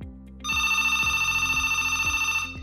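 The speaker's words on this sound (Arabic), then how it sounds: "وغادي تسمع ها هو كيصوني، شتي ها هو كيصوني" A phone connected through a 4G router rings with a loud, close electronic tone that sustains steadily for about two seconds over a fast, rhythmic pulsing.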